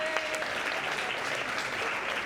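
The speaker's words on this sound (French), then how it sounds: "on peut l'applaudir aussi" Audience at a French talent contest final clapping steadily, a dense, even wash of applause close by throughout, with no voices over it.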